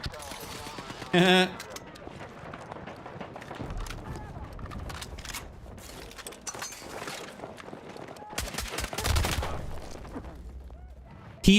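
Scattered, fairly distant bursts of gunfire in the shooter Battlefield 6, with a sharper blast near the start and another cluster later, mixed with footsteps and movement under a player talking.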